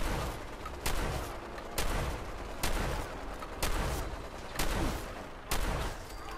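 Shotgun blasts with heavy recoil in the Fallout 4 video game, seven loud, evenly spaced booming shots about one second apart, each with a sharp crack and a short low rumble.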